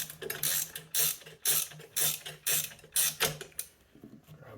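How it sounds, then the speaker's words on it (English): A ratcheting wrench clicks in repeated bursts of strokes while working on the clutch of a JAWA 350 motorcycle from a barn find, each pass a rapid close ratchet rattle with short pauses between. "These ratcheting wrenches are really nice, eh?"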